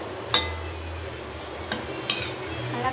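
A spoon stirs samba rava carrot idli batter in a bowl, giving a few separate clinks and scrapes over a soft, quiet background.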